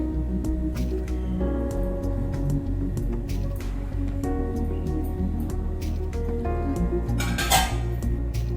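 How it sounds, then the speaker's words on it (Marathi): Potato being mixed into a poha cutlet mixture with chopped onion, tomato and coriander, soft squishy stirring and clinks of a utensil against a bowl, close and continuous with no talk. "आता यामध्ये बटाटा मिक्स करा."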